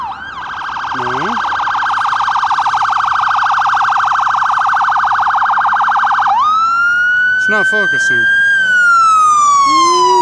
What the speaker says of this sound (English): See, always an ambulance.